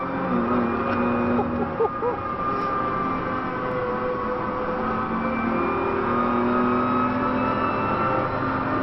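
A BMW M3 four-seater driving at around 200 km/h through fast corners on a road or track, its engine and tyre roar steady and loud throughout, heard from inside the car with no talking.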